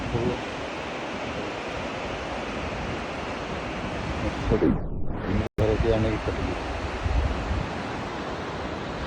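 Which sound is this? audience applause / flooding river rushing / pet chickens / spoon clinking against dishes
flooding river rushing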